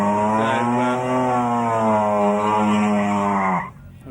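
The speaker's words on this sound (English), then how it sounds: "the Holden Gemini with the 13B rotary installed in it" A Holden Gemini fitted with a 13B rotary engine and a nitrous kit makes a drag run at Summernats, giving a loud, sustained buzzing engine howl that rises in pitch at full throttle, then cuts off abruptly near the end.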